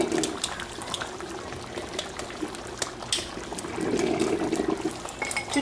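Water poured from a measuring spoon into a cooking pot to make a cornstarch slurry, a soft steady trickle and splash running throughout with a fuller pour near the end, close by and moderately quiet.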